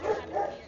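A dog barks twice in quick succession, close and fairly loud, with a person speaking faintly around the barks.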